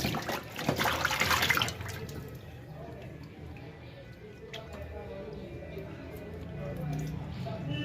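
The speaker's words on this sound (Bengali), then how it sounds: "মাছগুলো আমি একটু ভালোভাবে ধুয়ে নিই" Running water splashes loudly as fish is washed under a tap for a mustard rohu dish, strongest in the first two seconds and then easing to softer trickling and handling sounds.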